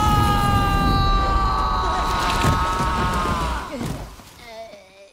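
A cartoon Minion sneezes: a long strained, wavering vocal build-up that breaks into a burst near the end, then trails off into a short fading squeak.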